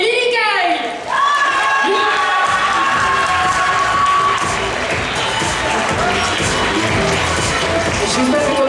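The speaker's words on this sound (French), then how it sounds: "S'il vous plaît, applaudissez Lily Kai!" Crowd at a cosplay roleplay contest cheering and applauding for a performer, loud whoops and shouts rising at the start, then continuing cheers over sustained clapping.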